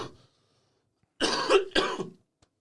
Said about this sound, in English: Me coughing into a mic